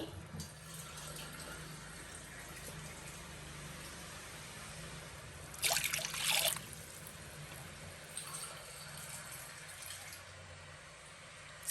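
Water is poured into a kadai pan while making sweet karadaiyan nombu adai. A single short pour of about a second splashes out clearly against a quiet, low background hum.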